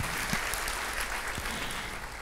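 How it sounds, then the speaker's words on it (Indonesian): A church congregation at a Sunday service claps for Jesus Christ, a soft, steady patter of many hands that sounds fairly distant and continues evenly throughout. "Yang mau kasih tepuk tangan buat Tuhan Yesus Kristus."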